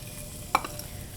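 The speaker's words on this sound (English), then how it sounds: "we're adding a little bit of whole butter into this. Then to the butter, we're gonna add some julienne white onion" Julienned white onion frying in whole butter for adobo broccoli and cauliflower, a soft sizzle under one short clatter as the onion goes into the pan.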